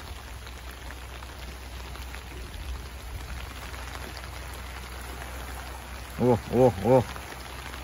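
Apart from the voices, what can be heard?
heavy rain falling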